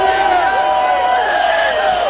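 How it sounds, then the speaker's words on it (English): A packed crowd at an RFA MMA fight in Los Angeles roars and cheers for fighter Brian Ortega, a dense, loud wash of voices with whoops, heard alone for a couple of seconds. "This crowd just alive here in Los Angeles, on their feet for Brian Ortega"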